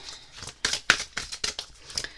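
Oracle cards from a unicorn deck being shuffled by hand, a quick run of crisp papery riffles and slaps close up, with no talk.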